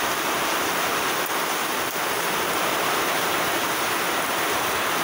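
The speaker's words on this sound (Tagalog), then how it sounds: "Lakas na ulan sa labas." Loud, constant rush of heavy typhoon rain outdoors in Masbate, Philippines, a broad even roar with a couple of faint ticks, no talking.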